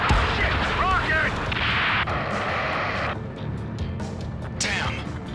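In the Ace Combat 7 aerial combat mission, a rocket explosion bursts loudly amid sustained heavy booming and gunfire-like blasts, with a jet-engine roar and brief whooshing sweeps filling the dense battle mix.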